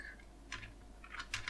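A few bursts of keystrokes on a computer keyboard during Godot game editing, quiet and close, with short pauses between clusters of taps.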